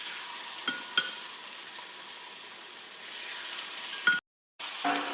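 Marinated chicken breasts sear in a hot frying pan, giving a steady, close sizzle broken by a few soft clicks and a brief silent gap near the end.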